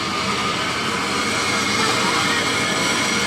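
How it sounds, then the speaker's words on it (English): A loud, steady broadband hiss of steam venting from the Union Pacific 4014 Big Boy steam locomotive, a continuous roar heard up close with no break. "Sounds like we're letting go of a little steam here."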